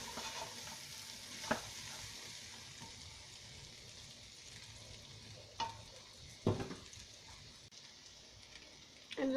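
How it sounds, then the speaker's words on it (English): Lamb and rice for pilau sauté quietly in a pan, a low soft sizzle broken by a few sharper stirring scrapes and clanks, with a faint voice in the background. "So this is gonna saute for a while."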